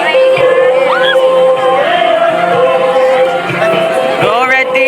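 Students at a school intramurals event scream and cheer loudly for the red team, with high shrill voices and shouts from a lively crowd close by, and people talking among them.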